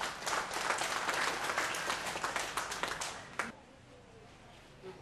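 An audience at a Bahau forum bursts into warm, dense applause for about three and a half seconds, then the clapping fades away into quiet room tone.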